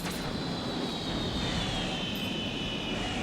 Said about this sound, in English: Got a plane in the background there.